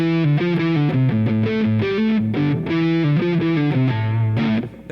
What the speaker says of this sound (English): Let's hear the neck pickup. Also single coil.